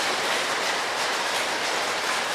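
A dense, steady wash of many hands clapping together, loud and continuous, like a crowd applauding.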